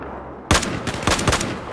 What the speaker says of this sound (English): Watch out! I'm firing!